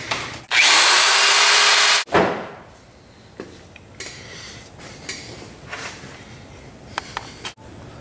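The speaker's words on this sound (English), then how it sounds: "then you can have enough room to be able to get down in here and drill like this." Power drill boring holes for a hydro cart kit wheel assembly: one loud continuous burst of about a second and a half, then quieter clicks and handling knocks from the workpiece.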